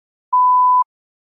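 A single clean electronic beep, loud and steady for about half a second, sounding alone in silence as the cue to start preparing a TOEFL exam response.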